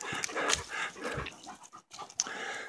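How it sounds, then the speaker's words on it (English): A dog pants rapidly and breathily close by while resting on a mountain hiking trail near Nederland, Colorado, with short irregular bursts of breath and faint whimpers. "The dog made it."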